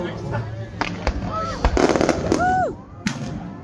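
Fireworks burst over Land's End at a sunset event in Cornwall, with crackling pops and whistling rockets close by, while a crowd talks and cheers throughout.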